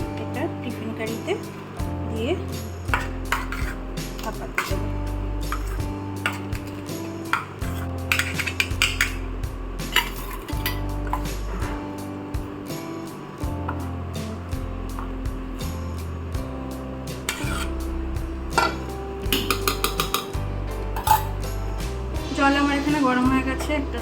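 A metal steamer stand and a tiffin carrier are set into a cooking pot, with scattered clanks and scrapes of metal on metal under steady nearby talking.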